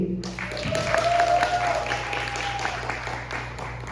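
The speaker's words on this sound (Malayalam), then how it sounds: "ഒന്ന് നല്ല കയ്യടി പ്ലീസ്" At an Onam celebration the audience breaks into a sustained burst of clapping and cheering, with a tonal whistle-like line over the crowd and a low hum underneath, fading slightly toward the end.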